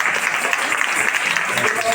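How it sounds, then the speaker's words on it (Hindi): Loud, sustained applause from a church congregation at a prayer and healing meeting, dense clapping filling the room evenly without pause. "जोरदार तालियां"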